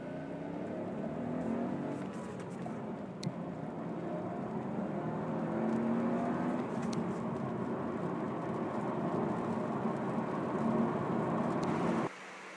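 A Honda Civic VTEC Turbo petrol engine pulls steadily under acceleration, a continuous loud drone with rising and shifting tones heard from inside the car, cutting off abruptly near the end.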